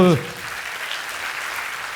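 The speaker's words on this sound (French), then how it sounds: "On va une nouvelle fois vous applaudir, docteur Luc Julia, s'il vous plaît." An audience at an evening talk on generative AI applauds Dr. Luc Julia, with steady, even clapping following the brief tail of a voice at the very start.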